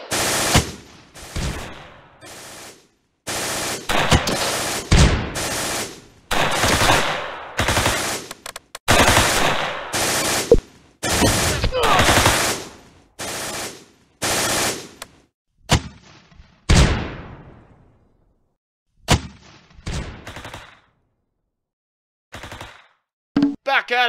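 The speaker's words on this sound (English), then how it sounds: "We're under heavy fire!" Heavy machine gun fire rattles in loud, sustained bursts separated by short silences, with the gaps growing longer and the bursts sparser toward the end, close and harsh.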